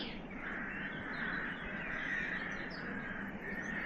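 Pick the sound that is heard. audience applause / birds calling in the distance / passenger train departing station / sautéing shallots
birds calling in the distance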